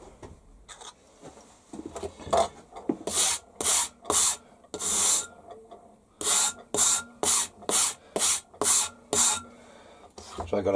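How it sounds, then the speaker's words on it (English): Steady series of file strokes rasping burrs off the back of a metal part, about a dozen evenly spaced rasps, close and clear with some quieter handling between. "Let me just take the burrs off the back."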